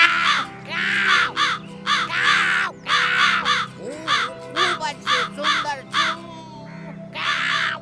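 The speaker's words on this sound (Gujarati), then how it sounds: "એટલે કાગડો પોતાના પગેથી રોટલીને દબાવીને બેસુરી અવાજમાં ગાયન ગાવા લાગ્યો." A crow caws harshly and tunelessly in a rapid, uneven series of close, loud calls with brief gaps between bursts.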